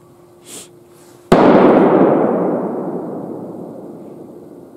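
A single loud 30.06 rifle shot fired at a doe during deer rifle season in Macon, Georgia, a sharp crack followed by a long rolling echo that slowly fades, with a faint soft sound just before.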